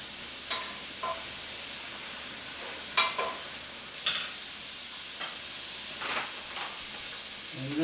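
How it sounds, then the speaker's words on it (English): Butter melts in a pan with a soft, steady sizzle and hiss, broken by a few quiet clicks and taps of stirring, close and fairly faint, with no talking. "In there, butter. We've got it melting in there."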